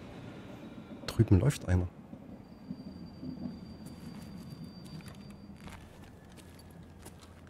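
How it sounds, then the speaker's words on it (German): A train in the video game Escape From Tarkov passes as a low, steady rumble that grows and fills the background after a brief spoken remark. A few faint clicks and thuds sit on top. "Jetzt kommt der blöde Zug, ich höre nichts."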